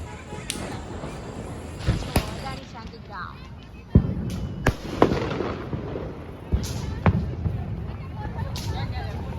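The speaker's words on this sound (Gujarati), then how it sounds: "કેટલા લોકો અહીંયા ફટાકડા ફોડે છે પાછળ તમને અવાજ સંભળાતો જ હશે" Diwali firecrackers burst outside at night in sharp, scattered bangs at irregular intervals, some near and loud, others fainter, over a murmur of voices and background noise.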